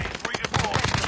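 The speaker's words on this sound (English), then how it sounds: "Oh, already getting sniped at." Sniper gunfire cracks in a battle royale video game, several quick sharp shots in a rapid volley, heard loud over game audio.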